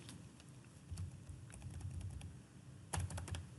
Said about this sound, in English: So I can type index.